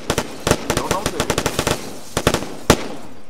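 Rapid automatic gunfire in the video game Arma 3 crackles in quick, uneven bursts with brief gaps between strings of shots, loud and close throughout.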